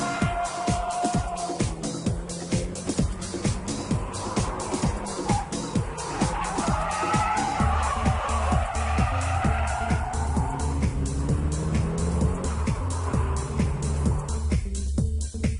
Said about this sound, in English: The high-speed drift is composed from small countersteering and velocity.